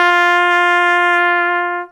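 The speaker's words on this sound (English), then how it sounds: "Some trumpet players might get a higher note like this." A trumpet sounds a higher open G with no valves pressed, one sustained bright tone lasting nearly two seconds, loud and clear with no other sound, fading only at the very end.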